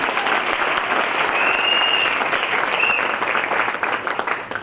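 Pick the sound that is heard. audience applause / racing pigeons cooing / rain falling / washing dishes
audience applause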